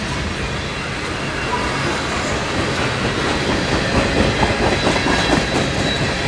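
A long freight train of tank cars rolls steadily past close by, with a continuous rumble and rhythmic clickety-clack of wheels on rail joints throughout.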